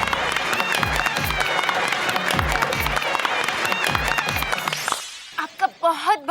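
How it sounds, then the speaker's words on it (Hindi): Studio audience at a Hindi comedy show bursts into applause and cheering, a dense, loud wash of clapping with crowd noise that cuts off abruptly, followed by brief talk. "तालियां।"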